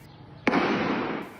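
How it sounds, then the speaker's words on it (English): A single gunshot fired during a school shooting in a quiet community: one sharp, loud crack followed by a long rushing tail that slowly fades, with no voices. "The gunshots ringing out in this quiet community."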